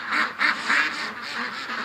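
A group of ducks quacks in quick, rasping bursts, several loud calls near the start followed by softer ones, close and unaccompanied by talk.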